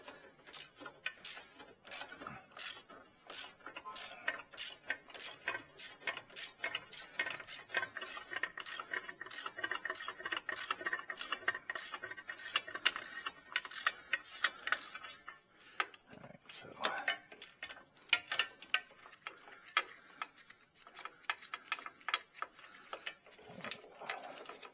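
A hand ratchet clicks in rapid, steady bursts while loosening a lower control arm bolt on a Chevy Cobalt, the close, sharp pawl ticks running for about fifteen seconds before slowing into scattered clicks and shuffling.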